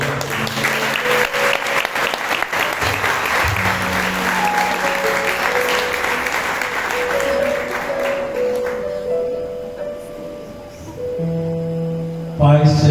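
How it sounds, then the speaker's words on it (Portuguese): A congregation applauds to welcome a guest at a church anniversary service, sustained clapping from many people over a steady hum, with sustained tones sounding alongside before the clapping fades out and a brief loud burst closes it. "Vamos recebê-lo com a salva de palmas."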